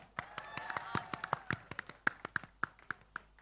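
Scattered claps from a small audience at an anime fan event with voice artists, distinct individual claps at an uneven rhythm, fairly faint, with a voice calling out over them.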